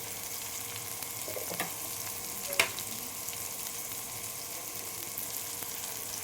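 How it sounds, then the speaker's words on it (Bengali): Chili powder and coriander powder sizzle in a frying pan with a soft, steady hiss, quiet and continuous, broken by a brief clink or two. "এবার এতে অল্প অল্প মশলা দিচ্ছি। গুঁড়ো লঙ্কা দিলাম, ধনিয়া গুঁড়ো দিলাম"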